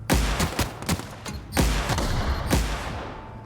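Enemies blowing up on their own mines in The Outer Worlds, a sci-fi shooter: a quick run of sharp explosive thumps and bangs, several close together, then two more a second apart, loud and near with no talking.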